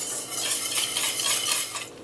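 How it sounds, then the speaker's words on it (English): Buckwheat and all-purpose flour with salt and black pepper being whisked in a bowl, a quick run of close metallic scraping strokes that continues steadily throughout. "And now whisk until well blended"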